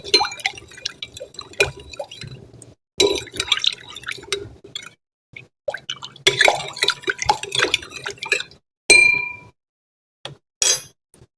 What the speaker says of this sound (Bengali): রুয়াবজা দিয়ে চিনিটি ভালো করে নেড়ে চেড়ে গুলিয়ে নিতে হবে